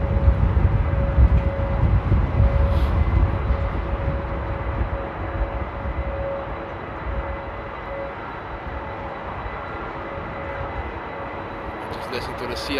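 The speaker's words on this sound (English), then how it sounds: "Just listen to the CF6s." An airliner with CF6 jet engines at Amsterdam Airport gives a steady low rumble with a thin whine on top, heard from a distance through stormy wind, while someone talks over it.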